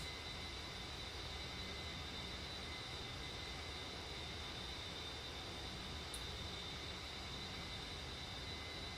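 Steady, unbroken drone of aircraft engines at full throttle in a flight simulator game, a constant broadband roar with a thin high whine, no pauses or talk, holding at a moderate level throughout.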